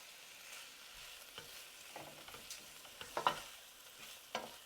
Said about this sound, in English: I'll give it a good mix so the prawns and rice are coated in all these spices.